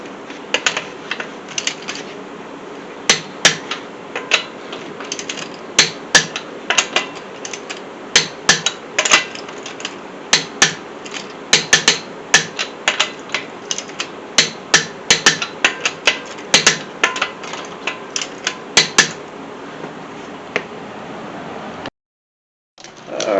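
A torque wrench tightens the front strut bolts on a 2006 Nissan Altima, producing a long run of sharp, close clicks in irregular bursts over a low background, ending in a brief silence.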